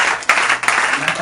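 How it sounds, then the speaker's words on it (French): A church congregation breaks into applause, a broad rush of clapping that swells in short bursts over about a second, close and dense, with voices mixed into the crowd noise. "Acclamons les Seigneur Jésus"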